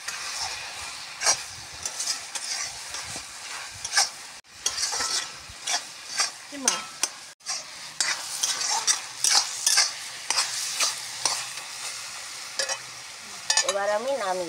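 Food stir-fried in a pan, with repeated scraping and stirring strokes over a steady sizzle and hiss, close by, a few brief clinks of utensils and no voices.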